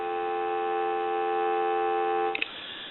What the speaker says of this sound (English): I'm going to give you some dial tone.